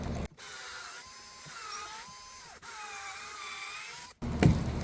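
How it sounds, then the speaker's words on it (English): A drill bores an angled hole into wood through a 45-degree angle drill guide, a steady mechanical whine running in two long stretches separated by a brief stop, close and fairly loud. "And I'm going to start drilling."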